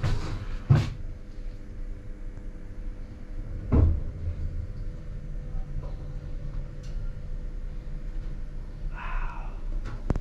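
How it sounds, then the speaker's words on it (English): A futuristic lift door slides shut with two distinct thuds a few seconds apart, set against a low steady mechanical hum. "Maybe close the door."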